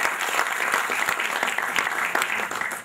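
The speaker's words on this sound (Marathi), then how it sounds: "आपण जोरदार टाळ्या वाजवून त्यांचं अभिनंदन करूया" Enthusiastic applause from a crowd at a poetry book launch, dense rapid clapping that holds steady and then begins to fade at the end.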